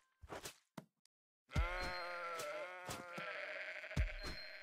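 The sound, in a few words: sheep bleating in a house-building video game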